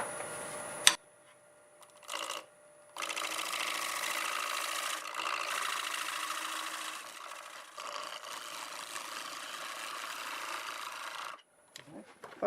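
A wood lathe spins a small gift-style turning while a tool cuts down its top rim, producing a continuous scraping, rasping hiss over a motor hum for several seconds. It starts after brief knocks and stops abruptly near the end.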